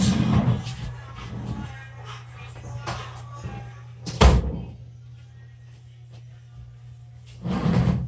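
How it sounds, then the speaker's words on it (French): A room door is shut with a single sharp thunk midway through, amid household bustle and low steady hum, with voices and shuffling before and after. "Je vais fermer ma porte."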